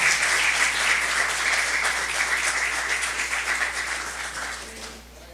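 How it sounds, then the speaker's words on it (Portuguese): Congregation applauding inside a church during a worship service, a dense, steady wash of clapping that holds loud and even for several seconds, then thins out and fades near the end. "aplauda ao Senhor."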